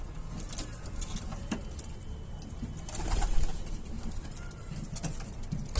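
Pigeons coo and rustle near a coop, with soft repeated calls, scattered sharp clicks and a brief burst of wing flapping in the middle, all fairly close.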